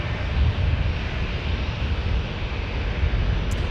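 A commercial airliner passing over near San Diego, a loud sustained broadband jet roar that stays steady throughout.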